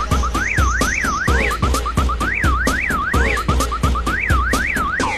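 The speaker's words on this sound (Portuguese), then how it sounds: "faz alarme e dispara." A car alarm's rising and falling electronic warble repeats rapidly, loud and close. It plays over a pounding bass beat with sharp percussive hits throughout.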